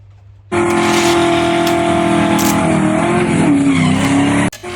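Majorette Hyper Cars diecast toy cars racing down a track, captured as a loud, steady engine roar with screeching tire squeals sustained for several seconds before cutting off abruptly near the end.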